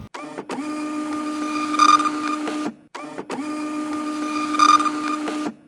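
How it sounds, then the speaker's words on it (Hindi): A 3D printer runs with white filament, its stepper motors whirring in a steady mechanical hum with tonal whines, pausing briefly and then resuming in a repeated pattern, close and fairly loud with no talking. "अब यहाँ से इसने वाइट वाली तार खींची, कर दे भाई। अब प्रिंट कर रहा है भाई ये।"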